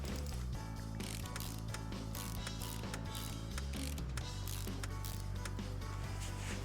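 Ratchet in the Car Mechanic Simulator 2018 game fastening parts while a drive shaft is refitted: rapid, continuous mechanical clicking in quick bursts, loud and close, with no voices over it.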